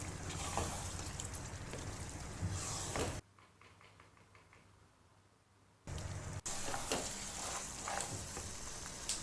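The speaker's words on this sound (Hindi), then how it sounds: "थोड़ी थोड़ी देर के बाद चमचा चलाएंगे और भूनते जाएंगे" Mutton karahi gravy frying in a pan while a spoon stirs it, giving a close, steady sizzle with scraping that drops away to near silence for a few seconds mid-clip before resuming.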